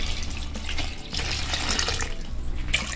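Water pours and splashes over soaked soya chunks being rinsed, a steady close running sound with small clatters and drips, no speech.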